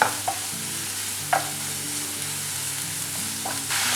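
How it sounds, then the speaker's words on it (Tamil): Browned onion gets stirred with Kashmiri chilli powder and turmeric in a pan for Kerala-style prawn roast, a soft continuous sizzle punctuated by a few clear clinks of the spoon on the pan. "இதை இப்போ நல்லா மிக்ஸ் பண்ணிக்க போகிறேன்."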